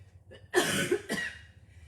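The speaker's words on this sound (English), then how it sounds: "Coughing's good as it clears the airways." Two sharp coughs in quick succession, close by, after a brief breathy lead-in, during a Pilates recovery session, with quiet room noise around them.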